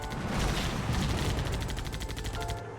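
Rapid game gunfire from Halo Wars units rattles in a dense, steady barrage of repeated shots, loud and continuous across the whole moment with no talk.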